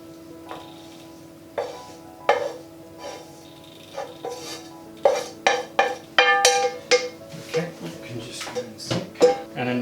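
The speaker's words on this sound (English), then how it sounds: "we're going to put the apricots and chestnuts in there, along with our sautéed veg" Apricots, chestnuts and sautéed vegetables tipped into a bowl and stirred for a vegan butternut squash nut roast, with irregular clinks and knocks of a spoon against the dish, growing busier toward the end.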